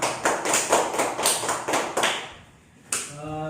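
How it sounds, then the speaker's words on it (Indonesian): A few classmates clap in a classroom, a short run of distinct, rhythmic claps close by that fade out, followed by a brief voice. "Beri tepuk tangan untuk kawannya"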